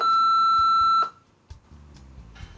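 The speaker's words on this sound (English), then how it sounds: "Please record your Facebook message after the beep." A single loud, steady electronic beep lasting about a second on AbleLink Technology's Endeavor Desktop software, signalling the start of a recorded Facebook message, followed by faint room noise and small clicks.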